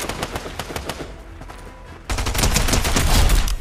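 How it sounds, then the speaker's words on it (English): Rapid gunfire in the Fortnite video game, loud bursts of repeated shots that pause briefly and then return as a denser, heavier volley, with no talking. "Oh, someone shooting at me?"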